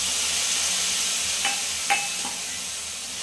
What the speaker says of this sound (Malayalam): അപ്പം നമുക്ക് ഈ ടൊമാറ്റോ പേസ്റ്റ് ആക്കിയത് കൂടെ ചേർത്ത് ഇളക്കി കൊടുക്കാം